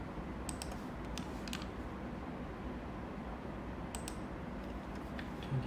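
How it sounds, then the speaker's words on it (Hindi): Computer keyboard keys, including the space bar, click a few times while a Revit tutorial is worked through, with sparse, light taps against a steady hiss of background noise. "फिर आपने कीबोर्ड से स्पेस दबाना है"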